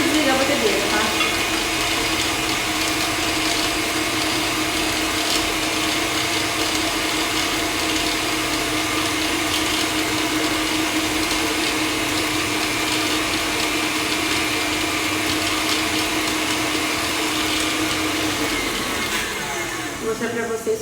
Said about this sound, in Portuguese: Nem precisa desligar a batedeira, tá?